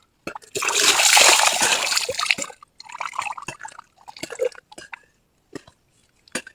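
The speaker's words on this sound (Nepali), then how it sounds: "त्यही भएर नुहाउँदैछु यहाँ।" Loud pouring and splashing of bathwater over a person washing, strongest at the start and then breaking into intermittent splatters and drips.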